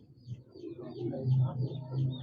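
Pet breeder pigeons coo softly in a few low, throaty, rolling calls close by, faint and without speech.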